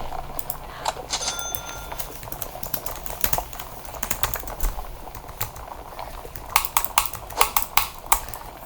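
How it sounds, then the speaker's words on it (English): Loud computer mouse and keyboard clicking during a Geometry Dash gaming session, a dense run of sharp close clicks with bursts of rapid taps near the end, alone without talk. "Just my mouse so loud."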